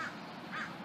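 Two harsh caws from crows gathered near an outdoor car-side cooking spot, spaced about half a second apart and moderately distant over a low, steady ambient hiss.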